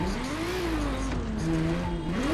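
Toyota Prius racing in The Crew Motorfest, its engine droning steadily with a rising and falling pitch as it accelerates, loud and continuous with no talk over it.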